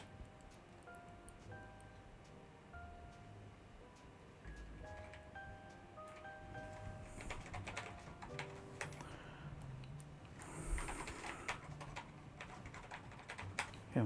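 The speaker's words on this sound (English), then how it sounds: "I can't see what I'm typing." Continuous clicking of computer keyboard keys during a vintage-computer setup session, steady and close, with faint tonal beeps and background hum and a louder burst of keystrokes toward the end.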